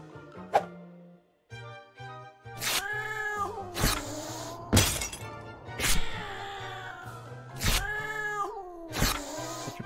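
Cat sounds from the video game Jazzpunk, with meows and yowls mixed with sharp crashing and thudding impacts of objects breaking, loud repeated bursts over a low rhythmic game music bed.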